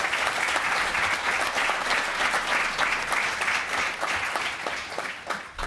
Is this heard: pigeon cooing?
no